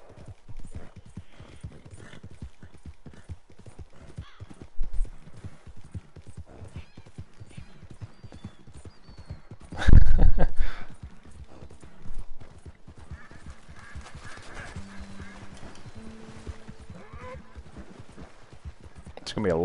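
Horse hooves clip-clop steadily in Red Dead Redemption 2, a continuous rhythmic trot with occasional whinnies and a loud thump, while players chat over the game sound.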